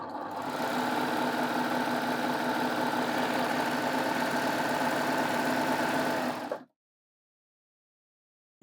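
A Baby Lock Gloria overlocker runs steadily, sewing stitches on cotton jersey with a continuous mechanical whir and hum for several seconds, then stops abruptly into silence.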